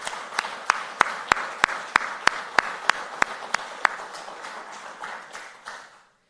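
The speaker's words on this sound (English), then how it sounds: "let's give them a round of applause." Audience applause at a faculty and staff convocation, sparse and thin with one clap standing out in a steady rhythm over faint background clapping, fading out toward the end.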